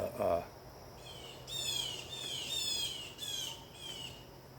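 Crows squawk repeatedly at a dog near a driveway, their harsh calls coming in a run of overlapping bursts at moderate distance over faint background hum.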